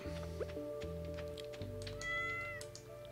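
A cat meowing in the Stardew Valley farming video game, a few short game-sound meows with bright tonal cries, heard alone without talk.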